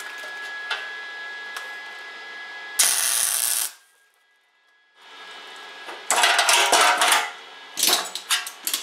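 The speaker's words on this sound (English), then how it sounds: "clamp it, and then we can just spot weld it" Spot welder joining galvanized or aluminum sheet metal on a homemade dustpan, giving three loud buzzing bursts of about a second each, separated by short pauses with quieter background noise.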